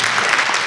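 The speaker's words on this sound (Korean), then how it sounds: "박수" Audience applause at a Korean entrepreneurship concert event, a brief dense burst of clapping from a hall crowd, fairly loud and even throughout with no voices over it.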